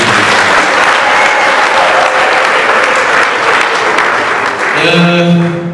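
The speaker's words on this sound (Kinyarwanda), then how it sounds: "Reka tuyikomere amashyi menshi." Church congregation applauding loudly and steadily, a thick wall of clapping that tails off near the end as a voice begins speaking over it.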